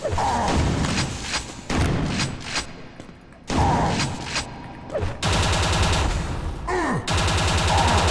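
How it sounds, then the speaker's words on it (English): Chaingun fire in Quake 2, loud rapid bursts of automatic shots with heavy thuds, broken by brief pauses and resuming several times, close up with no talk. "Chain gun, why not?"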